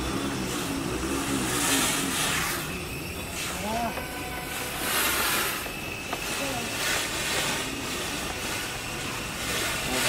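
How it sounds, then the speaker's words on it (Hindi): Mini fogging machine running with a steady loud rushing drone throughout, close by, under a voice speaking. "ये जो ब्लू बटन है आपने इसको प्रेस करना है और ये फॉगिंग करता रहेगा।"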